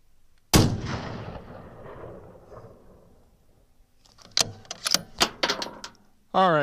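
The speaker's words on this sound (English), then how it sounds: "So I'm going to go ahead and fire one more" A single loud rifle shot from a Bergara HMR cracks out early and rings away over a couple of seconds, followed by close clicks and clacks of the bolt being worked and a person speaking at the end.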